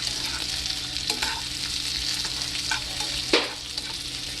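Onions frying in a pan on a home range for hamburger steaks, a steady close sizzle and crackle with a few brief scraping stirs, no voices.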